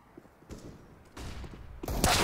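Gunfire in a professional CS:GO match on the Nuke map between Vitality and G2 comes as a few separate bursts of shots, growing louder and denser toward the end, with no commentary over them.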